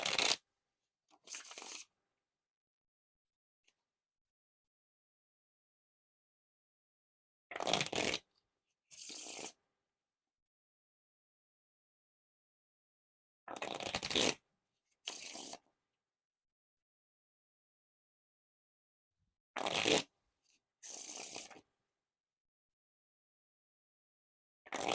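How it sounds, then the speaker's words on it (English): Bicycle Dinosaur playing cards riffle shuffled in short crisp bursts, each a quick flutter of cards lasting about a second, repeated several times with silent gaps between, close and clear with no voices. "Now time for the Riffle Shuffle or Bridge Shuffle."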